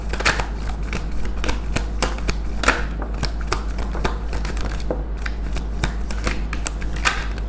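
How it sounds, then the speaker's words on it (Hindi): Tarot cards being shuffled in a steady run of crisp riffling and flicking, close and continuous, with no talk over it. "एक ही शफल करेंगे, जिस भी कार्ड को आना है आ जाए।"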